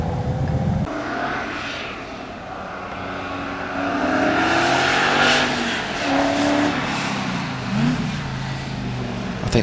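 A TVR V8S sports car races up the Loton Park hill climb on a damp day, its engine a loud sustained roar with rising and falling revs as it climbs through the course.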